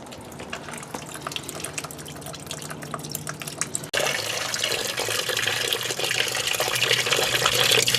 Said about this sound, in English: It's draining the reservoir tank right now.